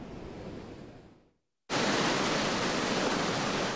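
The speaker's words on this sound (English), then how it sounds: "Take a look at the water coming in and crashing against the pier." Surf churned up by Hurricane Irene crashes against a pier as a loud, continuous broadband roar, cutting out briefly then returning at full strength, with no voices.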